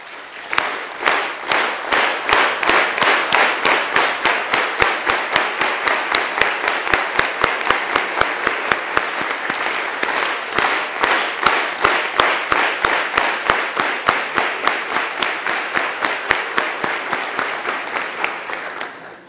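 A large gathering in the São Paulo state legislative assembly, the Alesp plenary on DeMolay Day 2013, gives a sustained round of applause. Many hands clap steadily and almost in unison for about twenty seconds, loud and close throughout.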